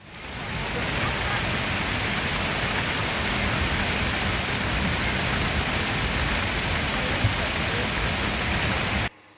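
Steady, heavy rain pours down over an idol immersion at a riverside ghat in Jalpaiguri town, a dense, even hiss that runs unbroken for about nine seconds and then cuts off abruptly.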